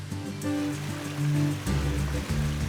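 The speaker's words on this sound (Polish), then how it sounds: "jedyne co słychać e, to szum wody" A mountain stream near the Pośna waterfall in the Kłodzko Valley, Poland, rushes in a steady, loud, close wash of water, with no voices.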